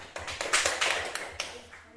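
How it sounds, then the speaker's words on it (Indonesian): Students in a classroom clap together in a short, faint burst of quick, scattered claps that swells briefly and then fades to a few stray taps. "Ya, tepuk tangan."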